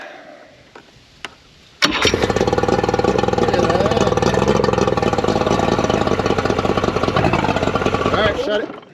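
A Yamaha 60 outboard boat engine, just repaired after a head fix, cranks and fires into a loud, steady running idle that holds for several seconds before cutting out, with a few clicks before it starts.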